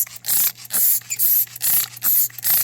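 Repeated spray bursts hit patio shade fabric as a cleaner is applied to kill mold, about six hissing pulses in a steady rhythm with short gaps, close and fairly loud with no talk.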